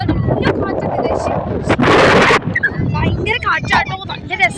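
Strong wind buffets the microphone on Marina Beach in Chennai, roaring steadily under nearby talk and swelling into a loud, close gust midway through.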